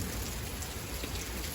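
Steady rain falls outdoors in a dense, even hiss of drops on surfaces, close and continuous throughout, with no voices.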